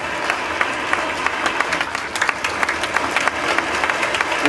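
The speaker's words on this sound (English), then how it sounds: "Can we clap?" Audience applause breaks out at the outdoor launch of a solar carport, just after the ceremonial cake cutting: a steady patter of many hands clapping, moderately loud and continuous, with a few voices mixed in.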